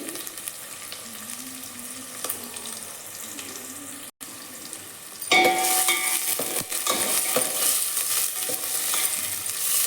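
Chopped onion and green chillies hit a pan of hot oil partway through, the quiet clatter before giving way to a loud, close, continuous sizzle with intermittent stirring scrapes.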